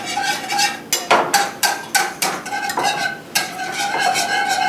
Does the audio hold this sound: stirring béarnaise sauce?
yes